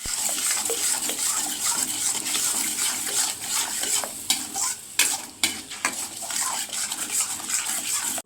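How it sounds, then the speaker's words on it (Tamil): Eggs scrambled in oil in a kadai pan, sizzling steadily as a utensil stirs and scrapes against the metal with several sharp clinks, close and continuous throughout. "கடாயில் எண்ணெய் ஊற்றிட்டு முட்டையை ஊற்றிட்டு பொடி மாஸ் மாதிரி பண்ணிக்கலாம்"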